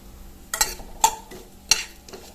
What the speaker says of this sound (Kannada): ಆಮೇಲೆ ಇದಕ್ಕೆ ನಾನೀಗ ಈ ಚಕ್ಕೆ, ಲವಂಗ, ಏಲಕ್ಕಿ ಎಲ್ಲ ತಗೊಂಡಿತ್ತಲ್ಲ, ಹೂವೆಲ್ಲ ಅದೆಲ್ಲ ಹಾಕ್ತಾ ಇದ್ದೇನೆ